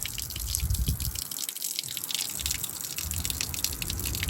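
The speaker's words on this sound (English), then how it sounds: "This is the water that was running on the inside of her vehicle." Water clogged inside a 2015 Buick Cascada's door gushes and splashes out steadily, a continuous close watery rush with dripping, loud throughout with a brief dip midway.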